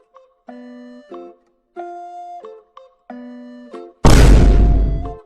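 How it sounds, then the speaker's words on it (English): Explosion magic spell from the video game Elden Ring: a sequence of tonal chiming charge-up notes, then a single loud, deep, full-spectrum blast that rumbles and slowly fades. "This is also the case for explosion magic."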